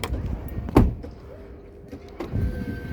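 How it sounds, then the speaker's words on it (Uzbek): Power windows on a new Chevrolet Cobalt whir closed one after another after the car is locked, a soft motor hum with a couple of clunks, close by. "Oynalar birin-ketin yopib qo'yadi avtomatik."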